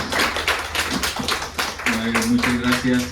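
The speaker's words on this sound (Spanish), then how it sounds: "pues un fuerte aplauso, aplauso a Noé" Audience at a literary festival poetry reading claps, distinct hand claps at first and then blending with a voice speaking over the last part.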